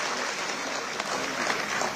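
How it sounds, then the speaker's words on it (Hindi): An audience applauds at a political party workshop event in Jodhpur, a steady, dense wash of clapping from a crowd, moderately distant and continuous throughout. "एक बार जोरदार तालियों से अध्यक्ष जी का स्वागत और अभिनंदन करें"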